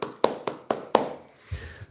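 Five sharp, evenly spaced claps ring out close and loud, each with a short decay, before a soft low thump at the end; the talk-show host is presumably leading an applause for guest Spencer Pratt.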